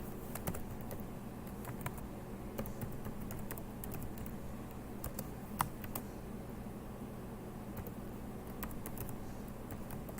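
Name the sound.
typing on a computer keyboard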